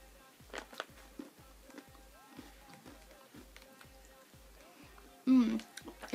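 Milk chocolate covered pretzels are chewed with a series of regular crunchy bites close to the mic, followed by a louder burst of voice near the end.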